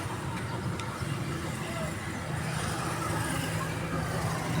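Cars, trucks and buses pass along a busy street by a roadside vendor, a low steady traffic rumble with a faint hiss of brakes, fairly distant and unbroken throughout.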